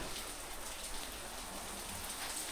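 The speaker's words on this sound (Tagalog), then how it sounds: "biglang bumuhos ang ulan" Steady, dense hiss of heavy rain falling, an unbroken wash of sound with no voices.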